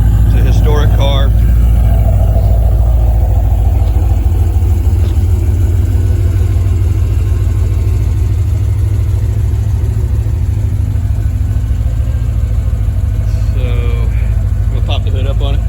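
Supercharged C4 Corvette with a Paxton blower and ZZ3 5.7 engine, tuned and running outdoors: a loud, steady low rumble throughout with slight fluctuations, voices faintly mixed in.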